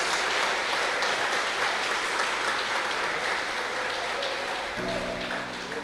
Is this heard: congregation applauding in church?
yes